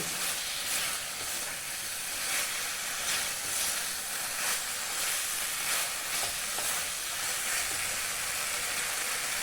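Okra (bhindi) frying in a pan, a dense, continuous close sizzle and hiss, with faint stirring strokes now and then throughout.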